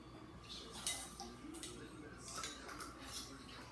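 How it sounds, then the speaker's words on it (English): A utensil stirs melted butter in a pot for canning, giving faint, scattered metallic scrapes and light clinks at an irregular rhythm. "every time I go back in the pot, I stir it real good."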